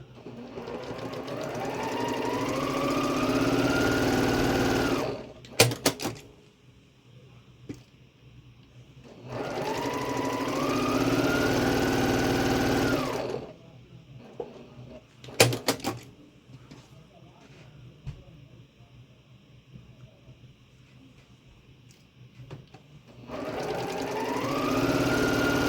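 A sewing machine stitches quilt block pieces in pairs, running in steady whirring bursts of several seconds each with quiet pauses between them. Brief clicks and handling noises fill the gaps, and someone talks over parts of it.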